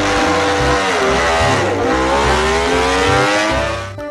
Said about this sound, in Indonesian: ada motor balap